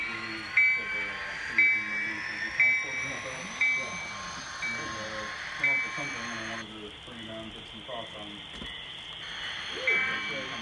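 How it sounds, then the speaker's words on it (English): Model train at a club layout pulling away, with regular rhythmic clicking over the rails and a faint steady whistle-like tone above, running steadily for several seconds before the sound shifts partway through. "Your train departing and then you get me in the background."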